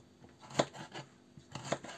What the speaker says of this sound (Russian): И режем болгарский перец